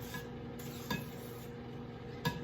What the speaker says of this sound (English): I'm going to add a little bit of the flour and stir it in there.